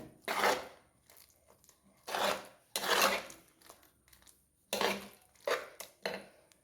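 A spoon scrapes and stirs through a cooking pot of puzhukku after water from rinsing a mixer jar has been added, in several distinct close bursts of scraping with short pauses between them.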